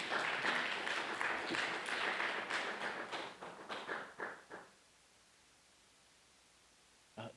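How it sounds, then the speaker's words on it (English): Conference audience at a clinical research event giving a round of applause for a speaker heading to the stage, steady mid-distance clapping that thins into scattered claps and fades to near silence. "Please give him a round of applause as he makes his way to the stage."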